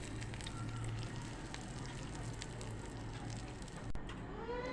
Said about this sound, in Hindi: अब मैं इसको लाइट ब्राउन होने तक फ्राई करूँगी।